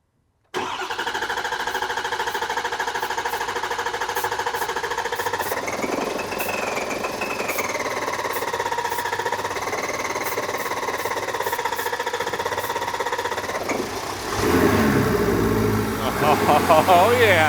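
A pump truck's engine runs at a steady, droning idle close by, with a whine that rises and falls, then picks up speed near the end and grows louder and rougher.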